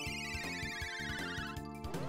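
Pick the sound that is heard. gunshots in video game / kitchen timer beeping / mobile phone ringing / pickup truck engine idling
mobile phone ringing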